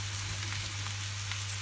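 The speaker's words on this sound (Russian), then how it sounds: "Вот видите, морковка, она прям должна вот пожариться." Carrots fry in a non-stick pan while cooking plov, a steady soft sizzle and crackle with no talking, fairly quiet and close.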